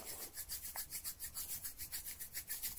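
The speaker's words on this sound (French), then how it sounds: "nous écartons nos doigts pour frotter les espaces interdigitaux" Hands rub together with fingers spread to scrub between them, making a soft, rhythmic rasping swish that repeats about five times a second, quiet and close, with no voices.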